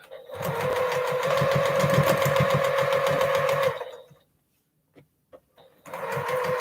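A sewing machine stitching a homemade Christmas gift runs in a fast, steady whir for several seconds, stops for a pause with a few small clicks, then starts up again.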